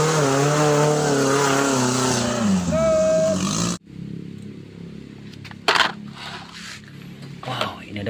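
A toy off-road car for mud play gives a loud revving engine whine with rising tones for nearly four seconds, then cuts off, leaving quieter handling clicks and scrapes.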